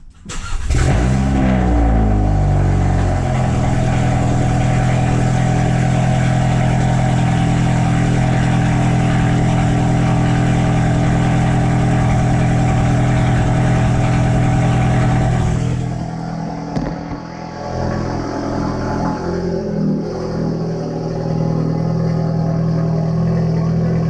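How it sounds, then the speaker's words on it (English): A loud Volkswagen Jetta GLI 35th Anniversary engine with an MBRP aftermarket exhaust revs hard and holds a steady roar, then drops briefly and settles into a rumbling idle with occasional blips. "So we're back with the MBPR exhaust system."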